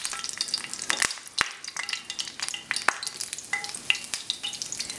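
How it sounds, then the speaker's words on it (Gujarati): Fresh curry leaves hit hot oil with crackling, popping sizzle, sharp bursts spiking over a steady frying hiss, close and moderately loud with no voices. "આમાં પહેલાં હું નાખીશ લીંબડો, ને જો મારું તેલ ફાઇન ગરમ છે."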